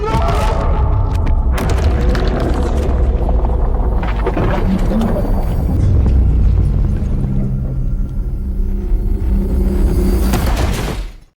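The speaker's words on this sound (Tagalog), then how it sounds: "isang napakalaking shockwave ang sumabog na itinapon ang lahat sa silid" A huge explosion shockwave from an animated action scene booms and rumbles loudly, with heavy thuds and whooshing debris throughout before cutting off abruptly.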